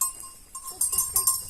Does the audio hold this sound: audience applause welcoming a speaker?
no